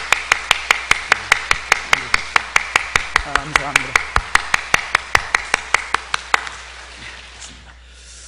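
A church congregation claps in a slow, even rhythm, about thirty sharp claps spread across several seconds before stopping, and a voice speaks briefly partway through.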